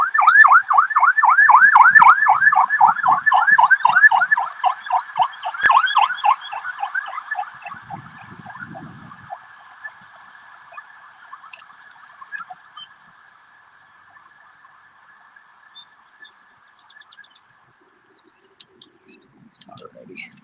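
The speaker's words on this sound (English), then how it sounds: "Ambulances are going by." A loud, warbling ambulance siren wails rapidly, then shifts to a steady tone that fades away into the distance and near-silence.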